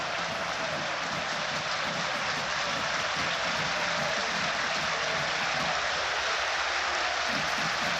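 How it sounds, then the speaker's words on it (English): Manchester United supporters in a Premier League stadium crowd applaud during the Manchester United versus Arsenal match, heard as a dense, continuous wash of distant clapping and crowd noise with no distinct individual claps. "Jallo getting some applause from the Manchester United supporters in front of us here."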